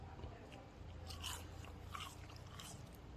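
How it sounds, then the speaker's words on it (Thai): Crispy herb-fried small fish, cooked with garlic and lemongrass, are bitten and chewed close up, giving a few soft crunches over quiet chewing. "ปลาคิวทอดสมุนไพรครับ มาชิมกันครับ"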